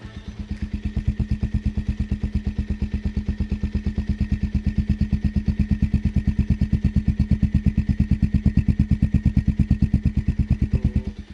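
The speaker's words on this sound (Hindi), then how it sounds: "अगर मैं आपको साइलेंसर की आवाज़ सुनाऊं तो this is also quite pleasing." Bajaj Pulsar 125 motorcycle exhaust silencer at idle, recorded close up: a steady, evenly spaced stream of deep thumping pulses that holds a constant rhythm and level with no revving.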